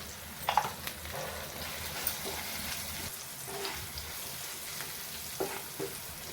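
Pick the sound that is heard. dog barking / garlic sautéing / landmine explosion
garlic sautéing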